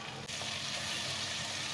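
Fresh crushed garlic fries in a pan, a steady close sizzle with a soft hiss throughout and no voices.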